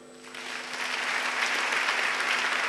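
An evangelical church congregation breaks into sustained applause, a dense wash of clapping that swells within the first second and holds steady and loud to the end.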